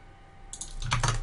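Quick keystrokes on a computer keyboard for copy and paste: quiet at first, then a short burst of several clustered clicks that grows louder toward the end. Nobody speaks.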